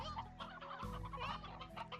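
Chickens in the video game Slime Rancher cluck and bawk softly and continuously, several birds overlapping at low volume.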